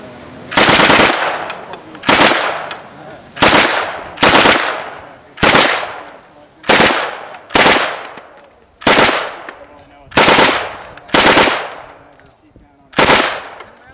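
A Sten submachine gun fires on full auto outdoors in about a dozen short, loud bursts, each a harsh clattering rattle separated by a second or so of quiet.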